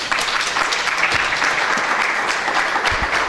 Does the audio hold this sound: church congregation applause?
yes